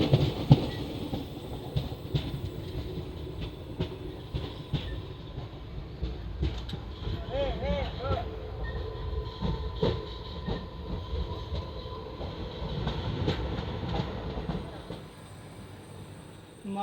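The Koyna Express, on its Mumbai to Kolhapur run, rolls out of Masur station with a steady rumble and rattling clatter of wheels on rails, close and continuous, with faint voices now and then.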